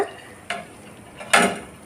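A spoon stirring fried bread flour in a pot for asida gives two short scraping strokes, close and fairly soft, over a quiet background.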